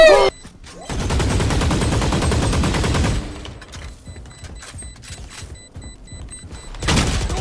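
Loud, sustained burst of rapid gunfire in a video game shootout, a dense rattling volley for a couple of seconds, then scattered shots and thuds, and another sharp burst near the end.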